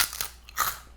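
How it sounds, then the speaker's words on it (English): Two close, crisp crunches from biting into a light, airy snack flavored with dried crab, shrimp and onion, each bite sharp and brittle with a short crackle. "the total crunch, as you could hear, was light and crisp and almost a styrofoamy kind of"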